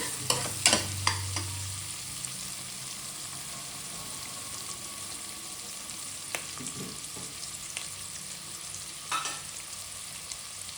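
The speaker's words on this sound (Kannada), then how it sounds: "ಚೆನ್ನಾಗಿ ಫ್ರೈ ಮಾಡ್ಕೊಳ್ಳಿ. ಕೆಂಪಗಾಗಬೇಕು ಈರುಳ್ಳಿ," Onions sizzling in hot oil in a pan for spicy donne chicken biryani, with a spoon scraping and stirring in bursts near the start and at scattered moments over a soft continuous fry, quiet and close.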